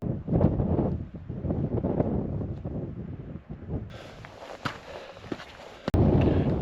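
Cold wind buffets the microphone on a mountain summit trail above the glacial lake Llyn Cau, in sub-zero conditions with frozen puddles. It is a loud, steady roar with gusts, and footsteps crunch underneath.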